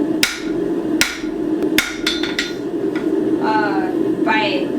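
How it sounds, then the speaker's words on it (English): Several sharp hammer blows ring out at uneven intervals on the corners of metal scrolling tongs during blacksmith forging, with a steady background hum and a voice heard between strikes. "By hammering on the corners of that, I am backing the material back into itself, and I can reestablish the right angles."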